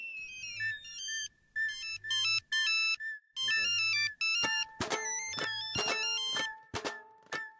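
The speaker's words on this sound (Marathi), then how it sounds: "फोन फोन वाजला" A phone plays a bright, melodic electronic ringtone in a Marathi TV serial scene, repeating its short tune in bursts with gaps, growing fuller and louder in the later phrases.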